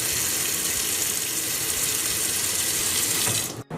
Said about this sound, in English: you want to put enough water to cover the potatoes